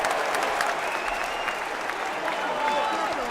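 Clapping in a casual studio chat, a steady burst of applause running under overlapping voices and whistles throughout.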